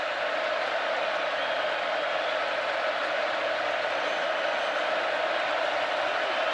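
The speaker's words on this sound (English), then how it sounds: "Crowd making it difficult again for the Alabama quarterback and front wall" Steady, dense roar of a stadium crowd at an Alabama vs Texas A&M college football game, a constant far-off wall of noise with no clear peaks, holding level throughout.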